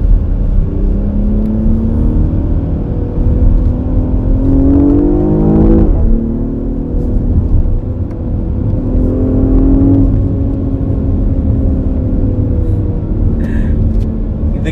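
A 2020 BMW X6 SUV accelerates with a loud, steady engine drone from inside the cabin, rising in pitch through gear changes, over road rumble and with no talk.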